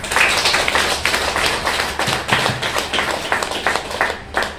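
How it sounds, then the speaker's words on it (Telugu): A devotional gathering audience claps together, loud close bursts of many hands with an uneven rhythm, no talking over it. "ఒకసారి చప్పట్లు కొట్టండి ఆవిడకి."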